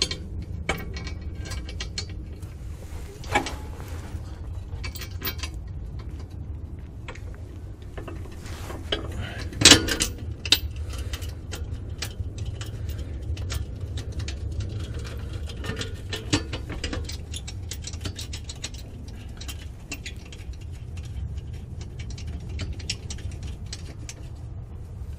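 A ratchet clicks in repeated bursts, tightening bolts while a Cusco floor center power brace goes onto a Subaru WRX STI VAB. Metallic clinks and clatters of tools and parts come up close throughout.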